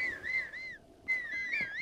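Link from Zelda: Breath of the Wild whistles a wavering, fairly close tune alone, with a short break midway before the whistling resumes and rises and falls.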